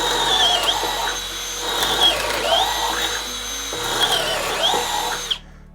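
Milwaukee 12V hammer drill boring a 1/2 inch twist bit into material, a close, loud motor whine that rises and dips in pitch in several cycles as the bit bites, then cuts off abruptly.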